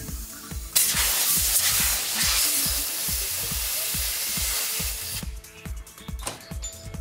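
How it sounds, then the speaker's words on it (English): A tyre changer from TWIN BUSCH hisses loudly as compressed air inflates a tire, a broad steady rush that starts abruptly and runs for several seconds before cutting out, over a repetitive low mechanical thumping. "fill the tire with the desired pressure"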